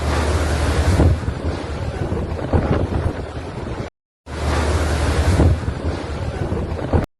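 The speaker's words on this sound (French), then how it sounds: "Vous entendez la puissance du vent, c'est ouf." Powerful hurricane wind striking Jamaica, roaring hard into the microphone in loud buffeting gusts, with a brief cut of silence midway and no voices over it.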